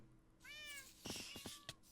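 A cat in the Minecraft video game gives two short meows in quick succession, clear and close, with a few soft clicks after them.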